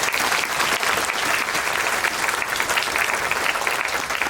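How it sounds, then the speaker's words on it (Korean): A theatre audience at a film event with the director and lead actor claps in a dense, even roar that holds steady and loud for the whole stretch, with no voices above it. "박수 부탁드립니다"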